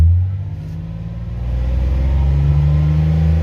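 An owner-assembled Nissan 350Z engine running on a dynamometer during tuning, holding its revs with a loud, steady low rumble that swells slightly as the throttle holds, with no talk over it.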